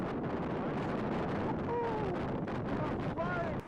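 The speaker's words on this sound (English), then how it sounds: "It's too windy to take a video" Heavy wind roars continuously against the microphone in a forest while tarp camping, with a few faint whistling tones rising through the gusts.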